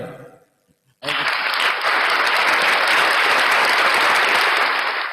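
A seated audience at a casual talk show breaks into loud, sustained applause after a brief quiet moment, the clapping holding steady and full until the very end.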